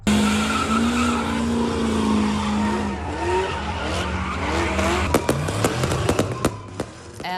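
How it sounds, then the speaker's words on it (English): Cars doing donuts at a nighttime street sideshow on the Bay Bridge, with sustained roaring engines and screeching tire skids, then a run of sharp cracking pops like fireworks toward the end, loud and close. "Traffic on the Bay Bridge coming to a stop because of a sideshow. You can see fireworks went up there and cars were doing donuts."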